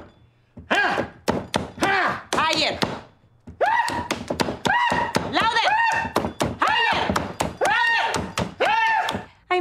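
A raw chicken is slapped by hand again and again, producing sharp, fleshy smacks that come in rapid bursts with brief pauses between them, loud and close, while voices talk and call out over the slapping.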